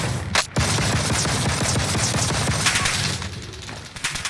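A new gun fired in Warzone, a sustained run of rapid automatic shots at close range, loud and continuous before easing off near the end.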